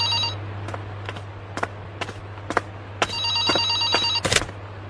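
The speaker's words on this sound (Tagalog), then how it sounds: "May tumatawag sa telepono." An old-style telephone bell rings in repeated short bursts, then a longer trilling ring near the end, loud and close against a low hum.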